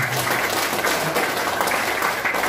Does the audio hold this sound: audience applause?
yes